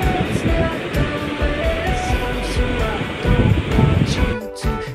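Steady rushing surf with waves washing in, close and fairly loud, mixed with some wind buffeting.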